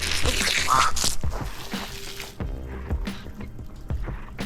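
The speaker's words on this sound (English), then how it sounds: "this hose is pretty good because it shoots a lot of water, but it does drip just a little bit" A garden hose leaking a little as it runs, giving wet, irregular splashing and dripping sounds that sit up close and fairly loud, with some brief broadband bursts mixed in.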